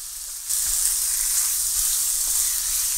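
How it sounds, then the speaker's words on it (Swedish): Seasoned chicken pieces frying in a pan for a chicken and zucchini skillet dish, a loud, steady hiss of sizzling fat that starts abruptly and continues evenly with no talking. "Nu ska det här stekas när det blir väl genomstekt."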